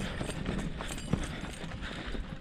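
An unbroken donkey's hooves clip-clop across the ground into a corral, a quick uneven run of thuds at close range over steady outdoor noise.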